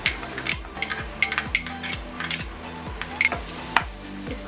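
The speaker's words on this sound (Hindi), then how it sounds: "जैसे ही वो गर्म हो जाएगा उसमें हम डालेंगे गार्लिक" Minced garlic, finely chopped from 10–15 cloves, sizzles in hot oil in a nonstick pan for Chinese garlic chicken, a steady close crackle broken by repeated spatula stirs and scrapes against the pan.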